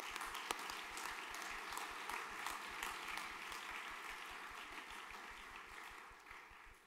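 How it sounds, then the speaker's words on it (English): Applause at a junior school graduation ceremony between name readings, a soft, fairly distant patter of clapping that continues evenly and thins slightly toward the end. "Round of applause, please."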